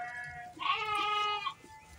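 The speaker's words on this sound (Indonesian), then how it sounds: "Ini domba usia jalan 2 bulan lagi fokus makan rumput." A young sheep about two months old bleats once on a farm, a clear, fairly close, wavering call in the middle of an otherwise quiet stretch.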